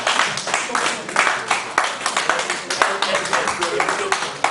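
Audience at a sports journalists' convention applauding after a speech, steady rhythmic clapping from a modest crowd with distinct individual claps, fairly close and continuous.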